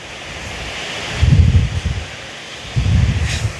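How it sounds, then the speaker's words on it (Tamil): Water rushing out of a reservoir sluice roars steadily, swelling in two louder surges, a broad noisy flow heard from close by with no talking. "இந்த தண்ணி என்ன வேகமாக போகுதுன்ட்டு பாருங்க"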